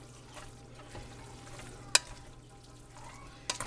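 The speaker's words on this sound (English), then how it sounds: "And just mix it in" Stirring tomatoes into pasta in a pan beside chicken, a soft continuous sizzle and wet stirring with a couple of sharp utensil clinks against the pan.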